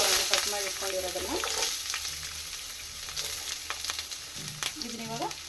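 Onion and curry leaves frying in hot oil with cumin and mustard seeds, a soft continuous sizzle with occasional stirring clinks, while someone talks over it.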